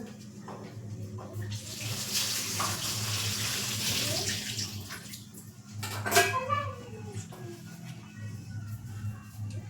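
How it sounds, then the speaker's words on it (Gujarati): Green cowpeas washed in a kitchen sink under a running tap, a steady close stream of water with rinsing splashes and a few light clinks of utensils, no talking. "આ ચોળી છે તે આપણે ધોઈ લેશું"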